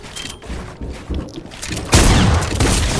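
Gunfire in a Fortnite build fight, scattered sharp shots at first, then a loud dense burst of blasts and booms that carries through the end.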